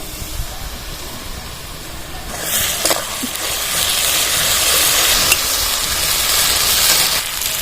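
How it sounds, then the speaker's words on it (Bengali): Onions fry in hot oil for a fish curry, starting as a quiet hiss and then swelling into a steady, louder sizzle with occasional stirring scrapes, nearby and without talk. "পেঁয়াজটা এইভাবে লাল লাল করে ভেজে নিতে হবে"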